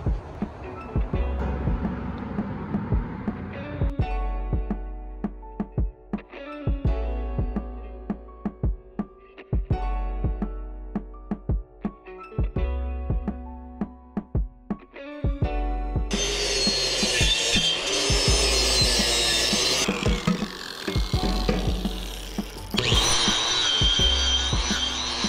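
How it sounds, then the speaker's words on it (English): Metal grinding on a used, slightly rusty Borla truck exhaust pipe for an F-150, with repeated scraping and rubbing strokes in uneven bursts, followed by a sustained, harsher grinding whine in the last stretch. "This is where I'm gonna start grinding"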